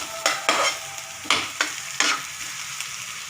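Onions hitting hot oil in a pan for chicken curry, sizzling loudly with sharp bursts as pieces drop in and get stirred, then settling into a steady crackling hiss.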